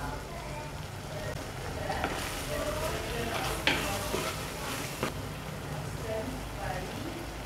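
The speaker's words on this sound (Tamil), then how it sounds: "தக்காளி நல்லா மசிஞ்சு வரணும், அந்த அளவுக்கு நம்ம வதக்கிக்கணும்" Tomatoes sautéing in a pan for a fish and green mango kulambu: a soft, steady sizzle with stirring scrapes and a few clicks, fairly faint, while a voice talks over it.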